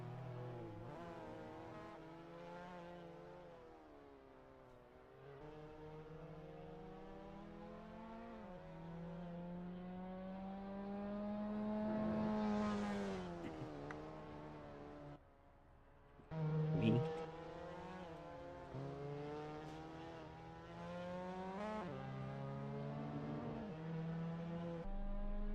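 MX-5 Cup race cars warming up in a racing video game, engines droning and revving in rising and falling harmonic tones with a short dip and a sharp surge, steady and close.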